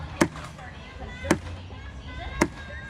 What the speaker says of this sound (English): I'm going to bang on the bucket 5 times.